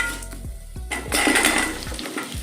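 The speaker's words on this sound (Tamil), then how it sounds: "ஒரு 2 செகண்ட் கழித்து நம்ம ஆனியனை ஆட் பண்ணிடலாம்" Onion dropped into hot oil tempered with cumin, dried red chillies, kudampuli and asafoetida bursts into a loud, sustained sizzle, with scraping stirs and a few soft knocks of a utensil on the pan.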